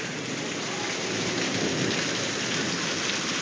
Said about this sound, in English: Stormy weather in Kansas City for sure.